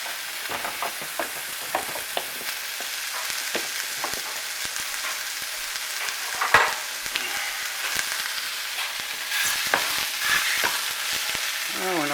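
Onions frying in a pan while being stirred for spaghetti, a steady sizzle broken by frequent scraping clicks and taps from the spoon.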